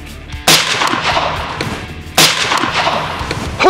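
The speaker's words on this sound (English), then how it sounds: "Who says a girl from California can't shoot?" Two loud, sharp rifle shots ring out about two seconds apart during a hog hunt in Texas, each one trailing off into an outdoor echo.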